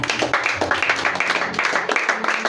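A church congregation claps together to acclaim the Lord, steady rhythmic hand claps repeating in a brisk beat, loud and close, filling the room without speech.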